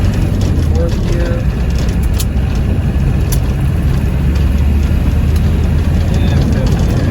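Steady, loud diesel drone of a 1990 Land Rover Defender 110 with the 200tdi engine pulling in fourth gear along a bumpy dirt road, constant engine rumble and road noise throughout.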